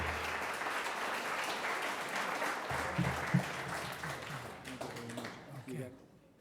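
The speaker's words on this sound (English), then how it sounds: "Fellow veterans, ladies and gentlemen, I appreciate your applause" Audience applause at a veterans' award ceremony for Independence Day, steady dense clapping from a crowd that thins toward the end, with some voices mixed in.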